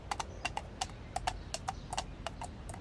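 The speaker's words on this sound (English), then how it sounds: "You can hear the sounds of the horses drawing the carriage" Horses' hooves clopping as they draw a carriage over cobbled streets, a quick uneven run of sharp hoof strikes over a low, steady rumble.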